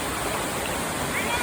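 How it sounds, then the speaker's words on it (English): Steady, broadband rush of a small waterfall near Kakolem beach in South Goa, constant and fairly close, with no clear voices over the water. "We are at a small waterfall near the Kakulam beach."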